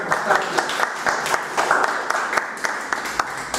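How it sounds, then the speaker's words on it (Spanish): Audience at a talk on psychotherapy breaking into close, lively applause, individual claps distinct and dense over a few seconds. "y aplausos"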